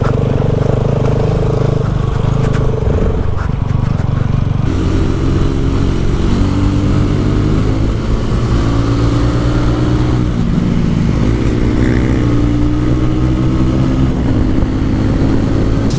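A TVS Ronin 225 motorcycle engine drones steadily while being ridden, loud and close. The pitch shifts as the rider changes gears, with wind noise over it.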